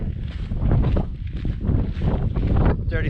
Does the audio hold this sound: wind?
yes